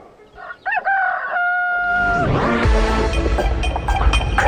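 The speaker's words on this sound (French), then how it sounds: "Le coq chante." A rooster crows loudly and close by, a rising, stretched call that rings out clearly over a busy, dense background of sound, opening a morning broadcast on national radio in Mali.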